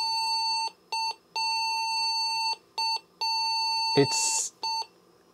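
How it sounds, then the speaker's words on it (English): An old DOS-era PC powering on gives a series of short electronic beeps in an irregular pattern, each a steady tone, with a brief spoken word cutting in near the end. "Why is it doing all those beeps when seemingly it has no actual errors?"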